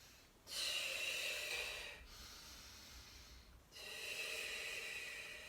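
Slow, deep breaths during a playful towel movement exercise: a long forceful exhale, a pause, then another strong breath, close and hissy, with no talking.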